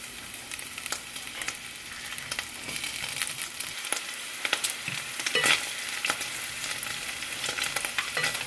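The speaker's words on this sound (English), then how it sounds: "Let's add the garlic and cook it until it's light brown" Garlic frying with pancetta in olive oil, a close, continuous sizzle with crackles and spits, occasional spoon stirs and a brief sharper pop partway through.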